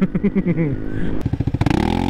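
A Vespa scooter engine idles with a rough, pulsing chug, then revs into a faster, rattling run; a voice may be faintly mixed in.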